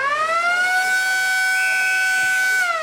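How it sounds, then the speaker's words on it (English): A loud, steady siren sounds at a football grand final to end the first quarter, a sustained tone holding for nearly three seconds before trailing off. "There's a siren for the first quarter."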